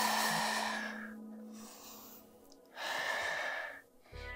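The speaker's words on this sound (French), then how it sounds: "Prenez 3 grandes respirations ici." Deep, slow breathing held in yoga locust pose, two long breathy exhales separated by quiet pauses, close and soft with no speech.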